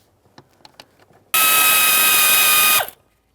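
A power driver runs steadily for about a second and a half, removing a screw from the right-side HVAC blend door actuator on a 2013-2020 Ford Fusion, preceded by faint clicks and ending with a brief spin-down.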